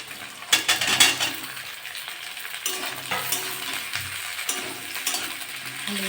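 Okra (bhindi) frying in a pan with onions for a mustard okra dish, a steady close sizzle broken by repeated scraping and stirring clatters of a spatula, with no talking.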